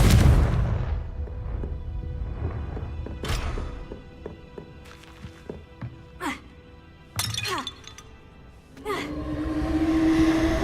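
Confringo spell blast in a magic video game: sharp shattering bursts and booming cracks go off several times over a rumbling backdrop, with a rising whoosh near the end.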